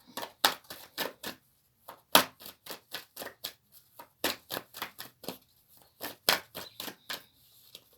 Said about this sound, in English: I don't like to see them when I'm shuffling.